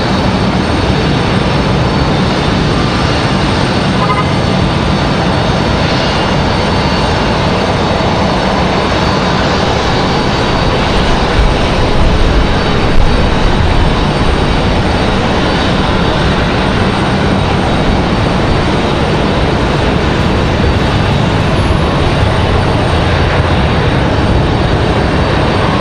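A CRJ regional jet departing Raleigh-Durham International Airport gives a loud, continuous engine roar that holds steady for the whole stretch, with no voices.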